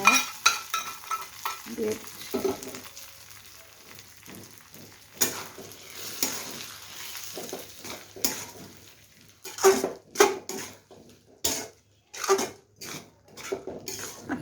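Fried onion tempering tipped into a pot of cabbage and mashkalai dal, with loud bursts of sizzling, repeated clanks of a spoon scraping the pot and irregular stirring sounds, close by, with a brief spoken word.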